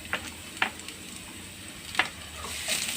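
Chopped garlic sizzles in hot oil in a pan, a soft continuous crackle punctuated by a few sharper pops and stirring clicks, close by with no talking.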